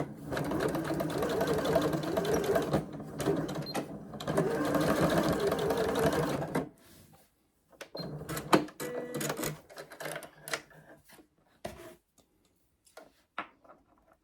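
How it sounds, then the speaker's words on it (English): Sewing machine stitching across a sparkly fabric key fob, running steadily for about six seconds, then stopping and starting in short bursts with clicks and handling noises, close and fairly loud. "we're just going to sew across here to keep everything nicely in place."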